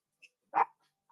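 A dog gives a single short, sharp bark up close, with a faint yip just before and a soft whine trailing after, in an otherwise quiet room.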